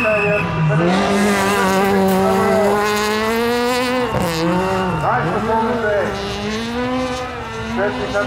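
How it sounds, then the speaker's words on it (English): A Ford Fiesta rally car enters a show-ground stadium to finish a stage, its loud engine holding a high rasping tone, then dropping and surging again through gear changes and throttle lifts, with an announcer talking over it. "as the Sasol Ford Fiesta of John Williams and Kirby Frey enters the stadium to finish"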